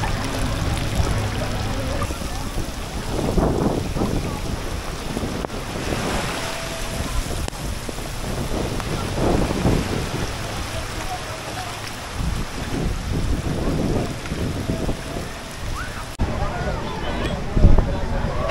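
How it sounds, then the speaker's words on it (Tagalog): Heavy rain pours steadily during a storm in Boracay, a dense wash of water noise with wind gusts buffeting the microphone throughout. No distinct thunder clap stands out. "Ang lalakas ng ulan guys. Grabe, ang lakas. Ano ba to, bagyo?"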